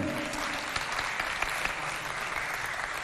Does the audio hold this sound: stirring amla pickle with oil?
no